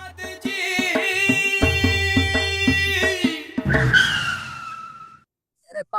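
A car brakes hard and its tires skid with a rising squeal as it comes to a stop, loud and close, following a stretch of steady music.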